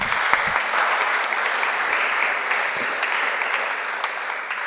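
An audience applauds at the close of a conference, a dense, sustained clapping that fills the room steadily without pause.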